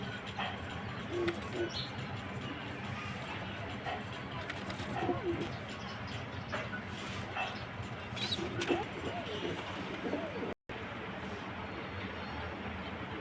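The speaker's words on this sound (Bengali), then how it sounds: "এই যে আরেক জোড়া কবুতর" Karmona satin pigeons cooing repeatedly in soft, throaty bursts, heard close amid background chatter and a few other faint noises.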